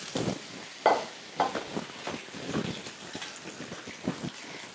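Tuna brick pastry filled with a whole egg frying in a pan, a soft crackling sizzle with uneven pops and bursts running steadily throughout, fairly close.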